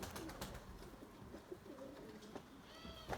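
White pigeons cooing softly in short low calls, faint and close, with small rustles and a brief chirp near the end.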